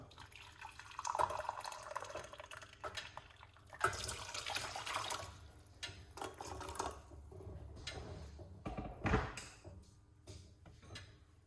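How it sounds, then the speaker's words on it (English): Hot water pours from a tap into a medium-sized pot in a kitchen, a soft, uneven splashing and trickling that rises and falls and stays faint throughout. "Hot water."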